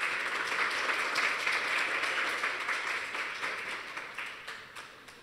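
Applause at a school math olympiad award ceremony, a steady wash of clapping from the audience that gradually tapers off toward the end.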